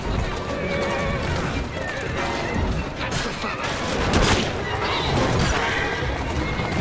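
A horse whinnies and its hooves clop steadily in Assassin's Creed Syndicate, set in London, with a loud, busy mix of game noise, crashes and bursts like gunfire throughout; a voice speaks over it.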